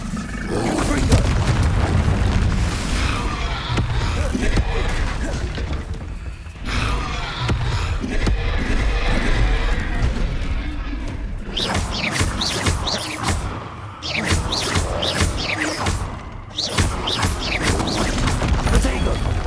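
Spell blasts and booms from the Confringo explosion spell in a Harry Potter video game, with loud, dense crashing bursts and rumbling throughout, recurring in several heavy waves.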